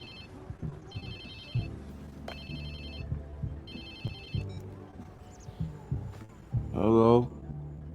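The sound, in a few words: phone ringing in video game Watch Dogs 2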